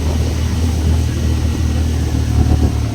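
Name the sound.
vehicle engine straining while climbing a steep mountain road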